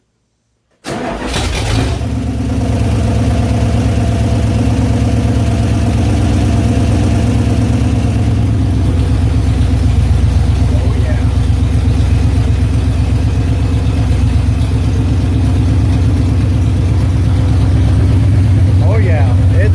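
A car engine with a newly repaired exhaust cranks and catches after a brief silence, then settles into a steady, loud idle close by that runs uninterrupted for the rest of the clip.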